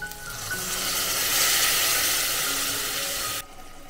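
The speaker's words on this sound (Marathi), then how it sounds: "आता ह्यामध्ये ती मी भाजी बनवते त्याच्यामुळे मी कमी पाणी टाकणार आहे" Vegetables sizzle loudly in a hot pan for a dried-fish-style dry vegetable dish as a little water goes in, a steady broadband hiss swelling and then cutting off abruptly near the end.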